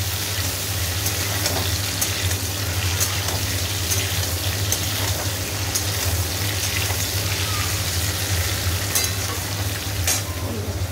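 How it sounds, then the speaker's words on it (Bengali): Shrimp and potatoes fry in oil with a steady, dense sizzle and crackle that runs unbroken throughout, over a low background hum, with no talking. "চিংড়ি মাছগুলো এর মধ্যে ভাজা হয়ে যাবে তেলের মধ্যে"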